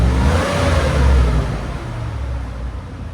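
A 2004 Chevy Avalanche Z71 with a 5.3L V8 and a Flowmaster Super 10 exhaust revs loudly and close up, a dense deep roar swelling briefly then holding at a steady rumble.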